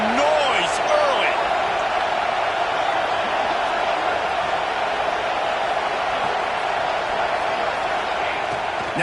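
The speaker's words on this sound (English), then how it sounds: "This crowd bringing the energy and noise early." Steady roar of a football stadium crowd, a broad, unbroken wash of many voices sustained at high level throughout, with faint whistles or shouts poking through.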